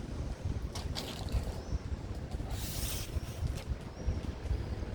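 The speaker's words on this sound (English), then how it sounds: "Yeah, it's a bit windy out here." Gusty wind blows outdoors, rumbling and buffeting the microphone continuously in uneven surges, with faint rushing noise above.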